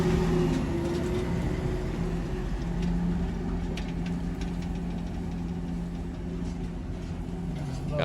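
A road train truck's diesel engine runs in the Australian outback, a steady low rumbling drone with a knocking texture that holds throughout, close and continuous, with occasional faint voices underneath.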